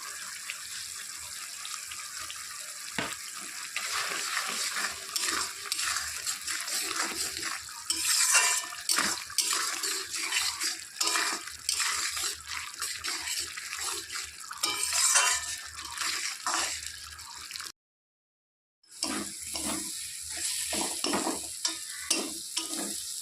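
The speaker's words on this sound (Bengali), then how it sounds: "সব কিছু ভালো করে কষিয়ে নেওয়া হয়ে গেছে" Spices for a Bengali bhola fish oil jhal are stir-fried in a pan, giving a continuous sizzle with repeated spatula scrapes and stirring rhythms, broken once by a short silence.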